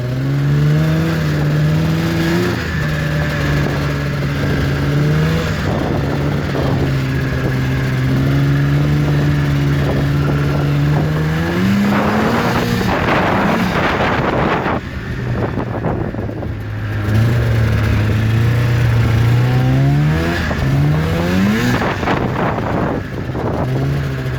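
A 1998 Arctic Cat ZL440 liquid-cooled, carbureted snowmobile engine running, a loud steady two-stroke drone that rises and falls as it is revved and ridden around, with wind buffeting the microphone throughout.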